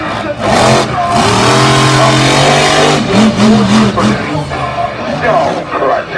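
Stone Crusher, a monster truck that won freestyle last year, revs its engine loudly and continuously at a back-to-school monster truck bash freestyle event, a sustained roar with surging pitch while an announcer talks over it.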